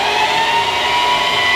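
A borrowed sewing machine runs at a steady, fast whir, loud and close, with no pause over the brief moment.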